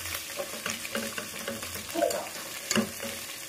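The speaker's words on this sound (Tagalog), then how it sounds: "So we'll fry this until golden brown" Pork pata frying in oil toward golden brown: a quiet, continuous bubbling sizzle with faint pops and the odd utensil knock, close and without talk.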